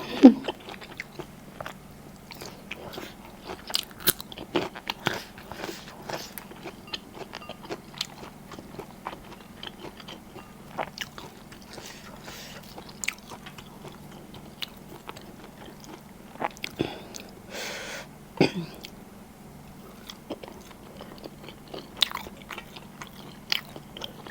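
Raw garlic eaten with banana-leaf-wrapped fermented pork and sticky rice is bitten and chewed close up, with repeated crisp crunches and wet mastication scattered irregularly over a quiet steady hum.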